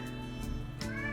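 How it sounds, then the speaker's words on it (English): A cat meows once, fairly close and clear, a short rising call set against a steady low background hum. "If you can hear that cat in the background, that is Boris"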